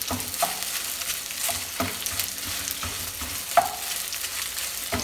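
Chiles de árbol with garlic fry in oil and crackle steadily as they are stirred, with several scraping strokes of a utensil across the pan and no speech.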